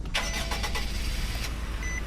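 In the Roblox game Greenville, a Nissan Juke RS in Sapphire Black starts up, its simulated engine cranking and catching into a steady idle hum, close and clear with no talk.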